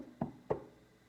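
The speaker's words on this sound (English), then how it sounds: "heard a quiet little knock at the front door" Two quiet knocks on a front door, evenly spaced about a third of a second apart, soft and slightly distant against a near-silent room.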